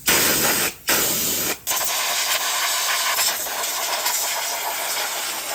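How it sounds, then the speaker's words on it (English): Compressed air blasts dust off a Toyota Supra engine from a flood-damaged car being rebuilt, a loud close hiss that cuts out briefly twice early on, then continues as a steady spray. "I'm gonna just try to blow some of this dust off this engine now."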